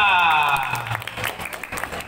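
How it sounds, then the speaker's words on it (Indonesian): An audience at a talk show event welcomes guest Roni Ardiansa with a burst of applause, starting under a tonal cheer or music and thinning to scattered claps. "Tepuk tangan yang meriah untuk Pak Roni Ardiansa."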